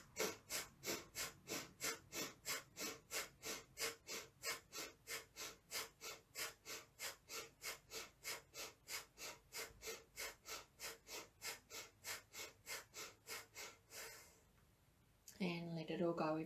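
Rapid rhythmic pumping breaths during a group breathing exercise, dozens of quick, even forceful exhales in a steady beat, then a pause and a voice speaking at the end.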